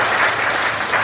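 A dense burst of applause rises from an audience at an anniversary science show event, loud, close and sustained over a brief moment.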